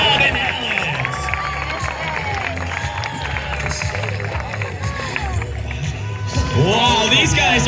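Crowd at a Long Island fair in Old Bethpage Village Restoration applauding and cheering for BMX riders after their stunts, a steady, loud wash of clapping with whoops and whistles throughout, plus babble of voices.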